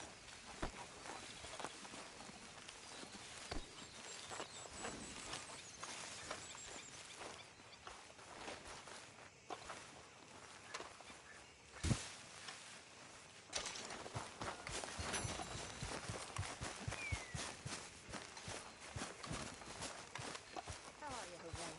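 Horses walking in Red Dead Redemption 2, hooves clip-clopping in an irregular rhythm at close to middle distance, with a faint bird call and game ambience under intermittent talk.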